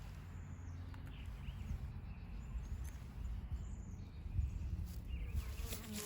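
A dense, low buzzing hum of many honeybees in an open hive during inspection fills the space continuously, swelling slightly at moments, with no voices.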